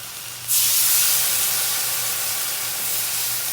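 Indonesian mie goreng fried noodles hiss and sizzle loudly in a hot pan right after soy sauce goes in, a sudden burst of steamy crackle that starts abruptly and holds steady, with a low hum beneath.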